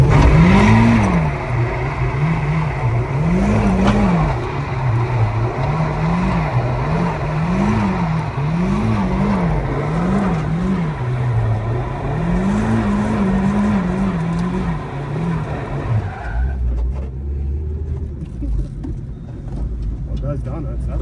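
A Nissan S15 does donuts, its engine revving in rhythmic, wavering surges with tires squealing, loud and close, before the noise drops off near the end.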